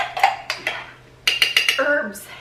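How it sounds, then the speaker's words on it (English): A utensil clinks and scrapes against a bowl as homemade ranch dressing is stirred, making short separate taps and scrapes in two bursts with a brief pause between them. "And then we're just going to mix it on up."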